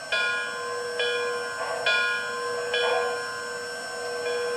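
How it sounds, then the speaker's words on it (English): The bell of a model New York Central L-3 Mohawk steam locomotive (MTH RailKing, Proto-Sound 2.0) clangs in a steady rhythm, four strong metallic strikes each ringing out briefly before the next, loud and close. "This is the bell."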